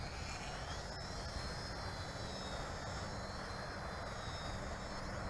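An XK X260 RC quadcopter flies outdoors, its motors giving a steady, even high whine with broad wind-like noise throughout, moderately distant.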